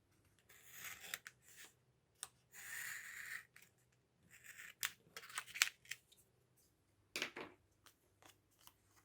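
Scissors snip around a card stuck onto a sticky roll, with short irregular bursts of close, crisp cutting separated by quiet pauses.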